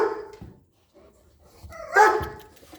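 A dog gives a couple of short, sharp barks and yips near a crate during training, close and fairly loud, with a person talking around them.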